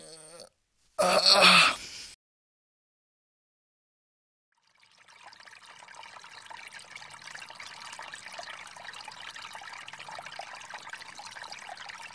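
After a brief throaty noise and a silent gap, water trickles and pours steadily for several seconds, fairly close and moderately loud.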